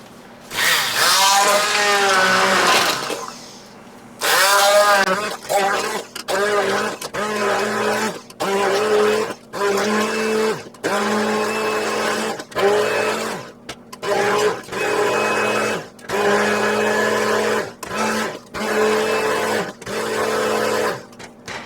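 A blender pulses through a hot mixture of cooked strawberries, sugar and lemon in a run of short, loud whirring bursts separated by brief pauses. A person speaks briefly before the blending starts.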